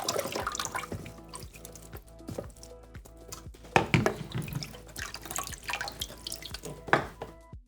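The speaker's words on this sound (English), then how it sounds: "Now it's time to get the plastics in the basin and give them a good wash." Plastic jerrycan parts are washed in a basin of water, with close splashing, dripping and sloshing in irregular bursts and a few louder splashes, and no talking.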